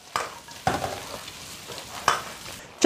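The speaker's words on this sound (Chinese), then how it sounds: "姜、葱、蒜、干辣椒、干花椒放下去，继续的给它翻炒均匀" Turtle pieces are stir-fried in a small home wok with ginger, scallion, garlic, dried chili and Sichuan pepper: a few sharp spatula scrapes and knocks over a low, quiet sizzle.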